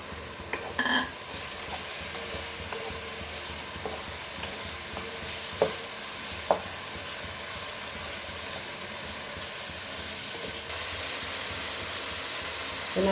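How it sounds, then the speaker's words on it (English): Tomatoes and onions frying in a pan for a Goan clam pulao, giving a steady, fairly quiet sizzle and hiss that runs the whole time, broken by a few sharp stirring clinks and scrapes. No one speaks. "So now the tomatoes are also fried nicely"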